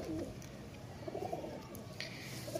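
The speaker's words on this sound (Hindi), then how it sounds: "ये जी कमगर कबूतर है" A Kamagar pigeon gives soft, low coos, a short series of gentle calls close by over faint background noise.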